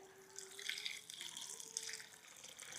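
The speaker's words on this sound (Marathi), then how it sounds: "याच्यामध्ये पाणी ओतून ठेवूयात" Water is poured over sprouted horse gram in a brief, faint splashing trickle that runs for a couple of seconds.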